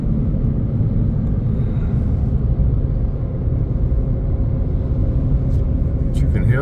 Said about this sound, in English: It's blowing the car around a little bit.